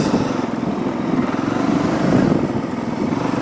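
Honda CRF450L motorcycle engine labouring uphill on a rough trail, a steady close mid-pitched drone with a fast pulsing throb and slight swells in throttle, no talk.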